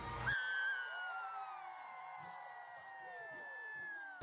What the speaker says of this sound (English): You can hear all of the screaming.